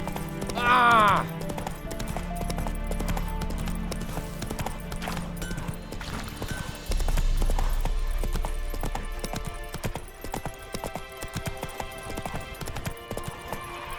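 Rhythmic clip-clop of galloping horse hooves in The Witcher 3, steady and close, with a whinny early on, music underneath and a brief spoken voice.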